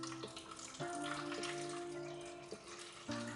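Warm water poured into a baking pan around ramekins before they go into a 325-degree oven, a steady splashing, filling pour with shifting pitch, close and fairly quiet, with no talking.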